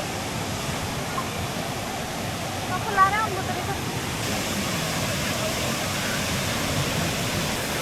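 Steady roar of Millaa Millaa Falls near Cairns, Australia, fills the scene, a constant dense rush of water, with a brief faint voice nearly buried in it.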